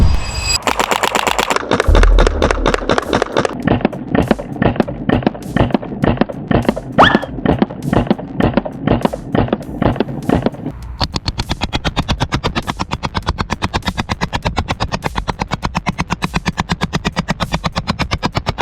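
A paintball gun firing repeatedly at paintball masks in a safety test to ASTM standards: a long run of sharp, evenly spaced close shots that speeds into a faster rapid-fire stream partway through, with no talk.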